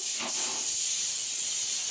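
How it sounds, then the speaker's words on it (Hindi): A kitchen pressure cooker lets off its whistle as a continuous, loud, sharp hiss of escaping steam. It holds evenly throughout with no speech. "उसको कुकर की सीटी आने में डर लगता है"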